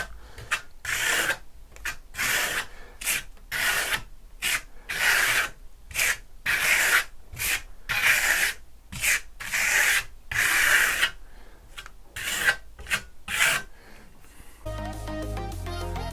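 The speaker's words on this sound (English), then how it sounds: "repeatedly moving your trowel over the finish with varied degrees of compression" Steel trowel working a Venetian plaster top coat, making rhythmic scraping strokes in quick repeated sweeps with short pauses between, close and with no talk, ending in a brief different clatter.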